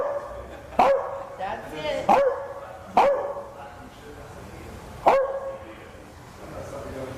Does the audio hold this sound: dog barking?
yes